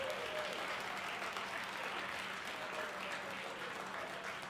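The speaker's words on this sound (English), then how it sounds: "Please give a round of applause." A crowd at a university Iron Chef competition applauds throughout, steady dense clapping filling the room at an even level for the whole stretch, with no talk over it.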